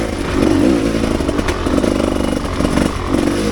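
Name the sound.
Rieju Ranger 300 motorcycle with FMF Gnarly exhaust lugging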